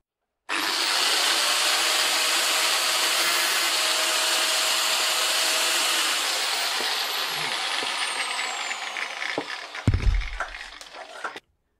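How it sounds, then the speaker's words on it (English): Angle grinder working off a blob of weld on an old bicycle frame near the bottom bracket, a steady loud broadband grinding whine for about nine seconds, then faltering and spinning down with a few clunks. "And then I'll start grinding."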